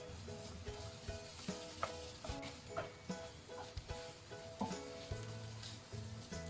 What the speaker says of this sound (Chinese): 再翻炒均匀。